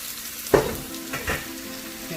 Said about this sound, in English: I'm just going to fold it in as they wilt down and then add more